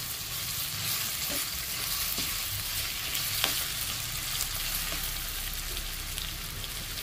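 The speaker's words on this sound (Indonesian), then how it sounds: "Kita tumis terus sampai bumbu keluak ini wangi ya." Ground rawon spice paste with keluak, lemongrass and galangal sautés in oil. A steady, busy sizzle carries on throughout, with occasional soft scrapes and taps of stirring.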